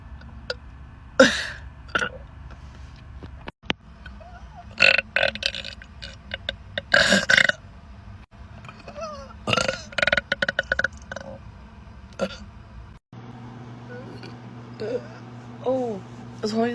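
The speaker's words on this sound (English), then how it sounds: "I was holding this burping for too long." Several loud, abrupt burps scattered across the clip, some short and some drawn out, with a person's voice and laughter between them at close range.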